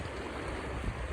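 Floodwater rushes from a broken Ravi river embankment in a village, a steady, dense roar of moving water with no voices.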